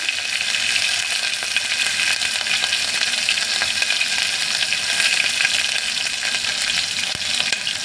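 Green chilies sizzle and crackle steadily in hot oil with cashews while being stirred, a dense, continuous frying hiss at close range with occasional scraping from the stirring, and no voices.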